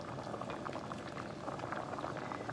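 A pot of water boils hard with pasta noodles in it, a steady dense bubbling and churning that stays close and even throughout.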